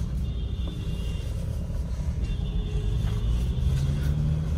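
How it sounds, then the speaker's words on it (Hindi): A Mahindra Scorpio N SUV driving on a road, with a steady low engine and road rumble filling the cabin continuously, no talk, just constant drive noise. "एक हाथ से गाड़ी चला रहा हूँ"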